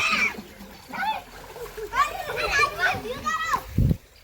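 Children's high voices chatter and call out over light splashing water as a child bathes under a farm borewell outflow, ending with a brief heavier splash.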